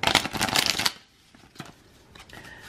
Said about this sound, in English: So I'm shuffling.